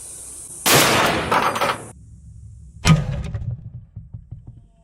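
A .50 BMG rifle fires at a gold bar outdoors on a range: a loud blast with a long echoing tail, then a second sharp crack about two seconds later followed by scattered rattling debris.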